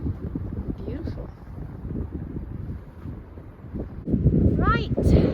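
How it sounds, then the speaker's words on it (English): Strong wind buffets the microphone outdoors in Modica, Sicily, making a low, steady rumble that surges louder near the end while people talk over it. "We can't fly the drone because it's far too windy."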